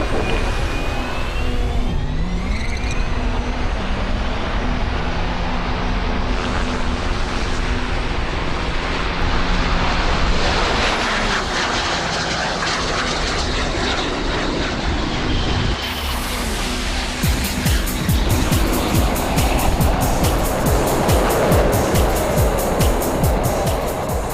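An Audi R8 sports car and a Harrier jump jet race side by side, loud continuous engine roar and jet whine building steadily, rising sharply near the end with a harsher, brighter jet blast and wind noise, no talking.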